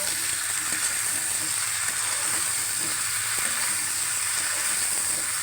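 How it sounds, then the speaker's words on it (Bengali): Flat beans and potatoes fry in a spiced masala, giving a loud, even sizzle with faint stirring scrapes underneath. The sound is close and unbroken for the whole stretch. "এখন আমি সিম আলু দিয়ে দেবো আলুটা ভালো মতো কষাই নেব"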